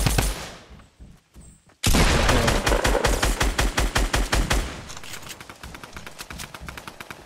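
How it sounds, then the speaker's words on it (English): Rapid automatic gunfire in Fortnite Battle Royale, loud and close, with a short burst followed by sustained rattling bursts that fade toward the end. "Oh, you're getting shot at, aren't you?"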